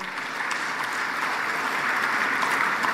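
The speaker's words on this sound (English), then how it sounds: "Let's give him a round of applause." Steady audience applause at a heads-of-state energy summit, a dense even wash of many hands clapping at moderate distance for a few seconds, with no voices over it.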